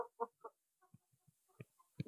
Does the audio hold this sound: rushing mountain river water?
no